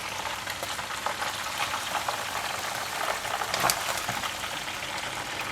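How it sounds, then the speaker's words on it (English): Fish frying in hot oil, a dense, continuous crackling sizzle that holds steady throughout with a few brighter pops. "We're going to fry it for about 5 to 7 minutes or until the fish is nice and crispy."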